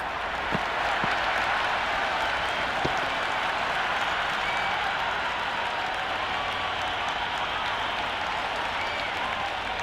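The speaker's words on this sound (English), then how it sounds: "the crowd have joined the party. It's pretty noisy in the ground." Spectators at a women's cricket match between India and England applaud in the ground, a sustained wash of clapping and crowd noise at even volume, with a few sharper claps standing out early on.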